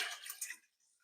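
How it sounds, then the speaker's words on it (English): Water is poured into a water bath canner while champagne jelly is being made. A short, soft splash rushes in and then quickly tapers off, leaving faint dripping trickles, heard close and alone. "I'm going to put some more water in it"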